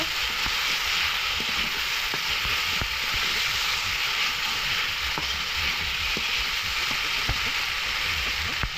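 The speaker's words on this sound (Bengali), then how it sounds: "টমেটো দিয়ে ভালোভাবে নাড়াচাড়া দিয়ে নেব" Chopped tomatoes frying in oil with cooked spice paste while being stirred for an egg yolk and peas dish, a steady soft sizzle with scattered sharp ticks and scrapes of the spoon, fairly quiet and with no talk.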